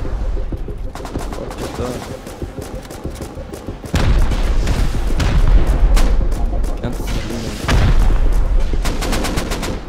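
Gunfire in the survival game Rust as players shoot at a turret: rapid automatic bursts and heavy booming shots overlap loudly and continuously, with clusters of fast cracks and deep thumps close up.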